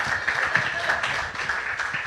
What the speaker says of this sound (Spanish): Dale un aplauso poderoso al Señor Jesucristo.